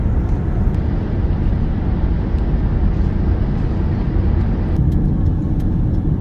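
Steady, loud road rumble from inside a car driving along a country road near Lake Livingston Village, continuous engine and tyre noise with faint ticks and no talking.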